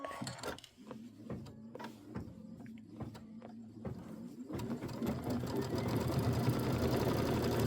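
A sewing machine doing an outline stitch on a traditional pieced quilt block, starting with a few short bursts of stitching and then settling into a louder, steady run.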